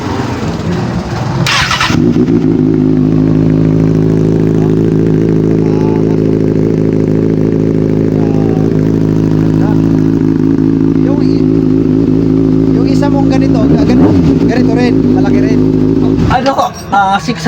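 A four-cylinder motorcycle engine cranks and fires, then settles into a loud, steady rev with a dense low rumble for most of the clip before cutting off near the end, with people talking briefly over it.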